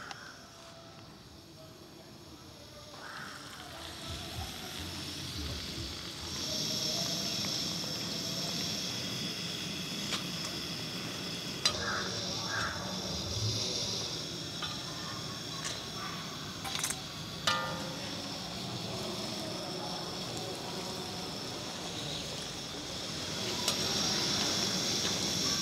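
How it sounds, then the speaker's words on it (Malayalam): Flattened nacho dough pieces deep-frying in hot oil give a soft, continuous sizzle that starts after a few quiet seconds and stays fairly low, with occasional faint clinks and stirring noises. "ഇനി നമുക്ക് പരത്തി വെച്ചേക്കുന്ന നാച്ചോസ് നമുക്ക് വറുത്തെടുക്കാം"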